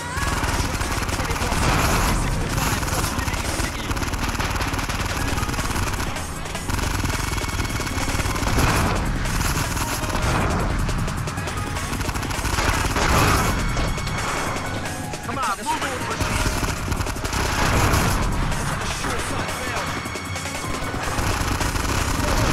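Gunfire and crashing impacts fill a chaotic Grand Theft Auto Liberty City Stories shootout, with dense bursts of shots and smashing noises continuing throughout alongside other game sounds.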